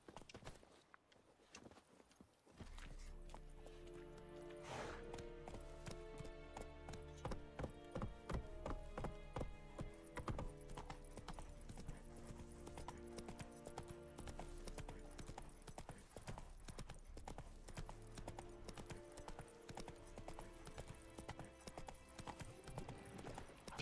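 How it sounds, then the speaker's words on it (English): Steady clip-clop of video game horse hooves at a brisk walk, continuous and fairly loud, with occasional light clatter and a faint whinny-like accent. "Come on, horse."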